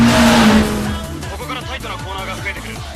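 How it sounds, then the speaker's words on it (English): Car drifting into a corner, likely a GTR or 86 at a Japanese drift event, with a loud revving engine sweeping through rising and falling pitch and a tire squeal at the start, continuous and close. "ドリフトでコーナーに入る。"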